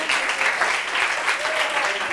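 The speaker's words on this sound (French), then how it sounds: "Applaudissements pour cette fille." Audience applause at a live gathering, a steady dense clapping that stays loud and close for the whole stretch without a break.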